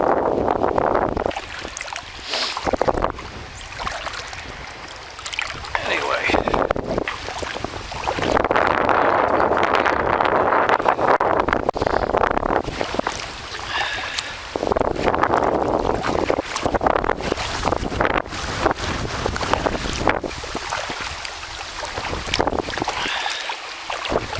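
Gusty wind roars across the microphone during a kayak ride on Lake Hamilton North, in loud surges with brief lulls, with faint splashing of water under it.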